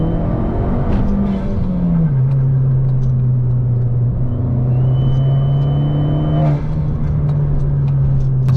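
An Abarth 595 engine with an aftermarket induction kit gives a steady, loud vacuum-cleaner-like drone and whoosh, a sustained hum that dips slightly in pitch early and holds even throughout, with no talking.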